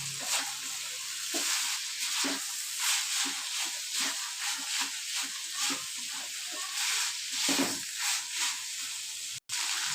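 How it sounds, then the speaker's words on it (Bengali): Spiced chicken and boiled kabuli chickpeas sizzling in a pan while being stirred, a steady frying hiss with repeated soft scraping strokes throughout, ending in a sharp click. "কাবলি ছোলা ভালো করে মশলার চিকেনে ভালো করে এটা মিশিয়ে নিচ্ছি।"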